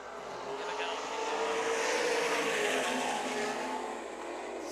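Sprint cars race around a dirt oval at an IRA and MSA sprint car event, a steady engine roar swelling and fading as the field passes, with a commentator's voice running over it.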